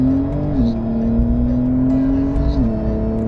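A Porsche 911 Carrera 4S in Sport Plus pulls hard in second gear, its engine drone loud and steady from inside the cabin, with the pitch dipping twice at brief shift or load changes.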